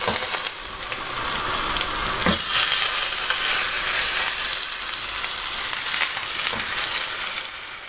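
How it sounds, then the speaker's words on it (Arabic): Chicken pieces dropped into a pan with caramelized onions, frying in a loud continuous sizzle and crackle with a few sharper pops, no talking. "هنزل بقطع الفراخ تاني،"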